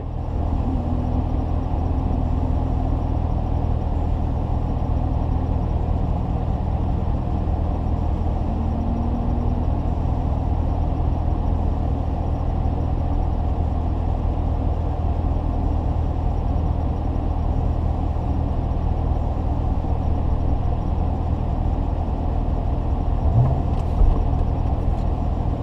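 A car engine drones steadily through a lap of a race track, close and loud from start to finish, with no voices over the constant rumble.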